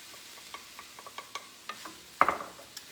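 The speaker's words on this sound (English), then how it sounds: "And then I'm just going to add that in, stir it around." Flour mixture being stirred into a pot pie filling in a pot, a series of light scraping and clinking spoon strokes at an uneven rhythm, with one louder knock near the end, fairly quiet and without speech.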